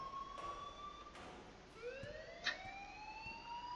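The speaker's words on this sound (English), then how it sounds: "please turn off that alarm" Alarm siren wailing in the video game Life is Strange, rising and falling electronic tones repeating steadily at moderate volume, with a few sharp clicks and thuds mixed in.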